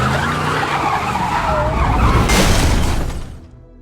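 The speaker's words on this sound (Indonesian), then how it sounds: "Di tengah pengejaran, mobil James harus menginjak ranjau hingga menabrak pepohonan" Car in an action-film chase hitting a mine and crashing into trees: loud roaring engine and skidding tire noise, then a sharp crashing burst before it fades out. No voices.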